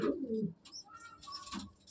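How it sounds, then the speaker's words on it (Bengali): Quiet cooing of a green Giribaz pigeon in a loft, a low throaty coo at the start followed by softer calls and chirps nearby, no talking. "খুব সুন্দর কোয়ালিটির পায়রা দেখুন"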